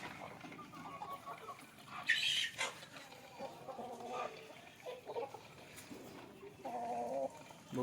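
A desi Kaveri rooster of about 2 kg on a farm near Satara, giving faint scattered clucks and short calls at a distance, with quiet background noise and no clear speech.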